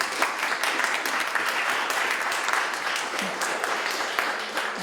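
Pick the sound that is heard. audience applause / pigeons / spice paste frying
audience applause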